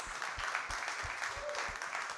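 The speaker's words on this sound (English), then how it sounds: "Can we get a fabulous round of applause for this amazing group of individuals?" An audience at a conference program gives a round of applause for a panel, a moderate crowd of clapping hands with a few distinct nearer claps standing out against the steady patter.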